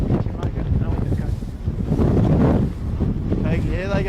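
Strong gusty wind buffets the microphone on a boat during a harbour sailing race, rough and continuous with rising and falling gusts, while people talk underneath.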